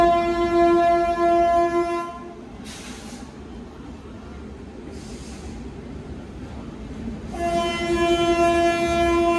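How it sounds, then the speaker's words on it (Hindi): A passenger train arriving at a station in Jharkhand sounds long, loud horn blasts at the start and again at the end, with a rumbling rolling noise in between. "इंतजार कर रहे थे ट्रेन का, ये आई"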